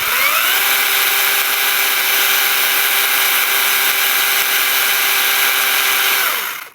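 A SHIDOKU PG4 cordless battery chainsaw with an 8 or 10 inch bar runs at steady high speed, a loud even electric whine that holds for several seconds and then cuts off and winds down.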